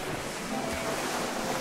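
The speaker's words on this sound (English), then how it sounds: "I hear water." Water in The Beginner's Guide game: a steady, rushing wash like surf or flowing water, loud and unbroken, with no voices.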